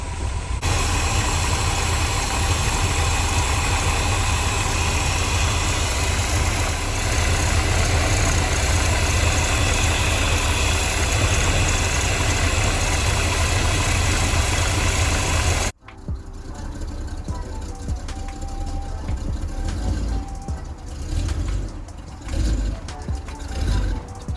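A car engine with a Holley 1850 carburetor idles with a steady, rough rumble for about fifteen seconds, then cuts abruptly to quieter, uneven mechanical background noise.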